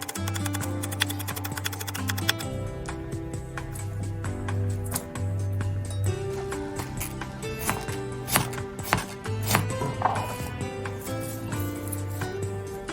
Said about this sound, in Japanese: 外側の硬い葉っぱは除いて半分ぐらいに分けて細切りにします。